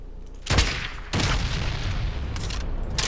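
Grenade blasts in Ghost Recon Advanced Warfighter, two loud booms a moment apart, each followed by a rough, noisy tail, over a steady background din.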